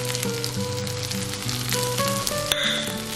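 Spice powders including garam masala and nutmeg tipped into onions frying in a pan for mutton curry, giving a steady close sizzle with a faint clink partway through.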